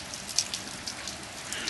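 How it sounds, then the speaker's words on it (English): Rain patters and splashes into puddles on a snowy February day, a soft, steady spatter with occasional sharper drops close by. "That's just rain"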